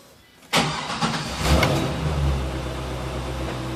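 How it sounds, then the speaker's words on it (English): Corvette C5 Z06 engine cranks and catches with a sharp burst, then settles into a steady, deep idle rumble, close and loud, with no talking. "I'm going to start the car."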